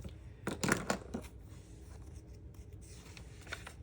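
A left-handed nib fountain pen scratches across a Moleskine notebook page in a few quick close strokes, followed by softer, fainter scratching against a quiet background.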